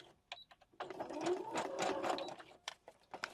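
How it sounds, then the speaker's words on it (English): A sewing machine stitches through a grocery-bag junk journal pocket in a close, steady whirring run, preceded by a few short mechanical clicks and ending in brief taps. "So I'll go just a little bit further and then back stitch again."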